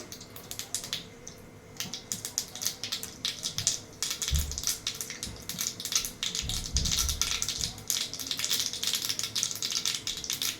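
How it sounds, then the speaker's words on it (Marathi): Mustard seeds crackle and pop in hot oil, a dense run of sharp snaps and sputters building in intensity, close and continuous with a few heavier thuds. "मोहरी वाजायला लागली आता कडक झाली मोहरी पूर्ण मोहरी फुटून द्यायची"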